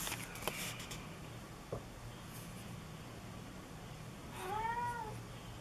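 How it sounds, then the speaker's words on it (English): A pet cat gives a single clear meow near the end, indoors. Faint taps and small bumps come before it, with no voices. "My kitty's here."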